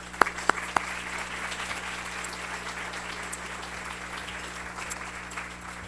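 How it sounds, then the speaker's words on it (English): Audience applause at a women's recognition awards event, a few sharp claps up front then a soft, fairly distant sustained clapping wash for several seconds without speech. "Please give them some applause."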